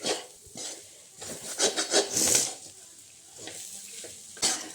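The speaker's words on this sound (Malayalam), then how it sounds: "ഈ പൊടികളെല്ലാം ചേർത്ത് സവാള നല്ലപോലെ ഇളക്കി കൊടുക്കാം." Onions being stirred with spice powders in a pan for a traditional Kerala-style duck curry, giving a scraping, rasping sizzle in irregular bursts, close and moderately loud with no talking.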